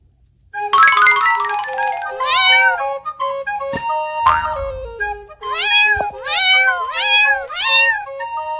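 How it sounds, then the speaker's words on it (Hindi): Several high kitten meows, rising and falling, repeated in quick succession over bright chiming tones, with a clunk partway through. "ये बच्चे इतनी मियाऊ मियाऊ क्यों कर रहे हैं?"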